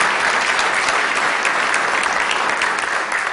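Dense, steady applause from a large audience during a governor's State of the State address, loud and sustained throughout with no pauses.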